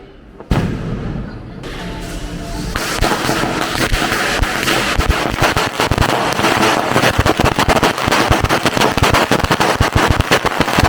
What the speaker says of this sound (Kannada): ಪಟಾಕಿ ಪಟಾಕಿ ಪಟಾಕಿ.